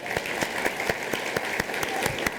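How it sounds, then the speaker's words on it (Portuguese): Church congregation applauding steadily, a dense wash of handclaps with a few sharper claps standing out, close and sustained, with no voices over it. "Uma salva de palmas para Marlene, que ela é fera."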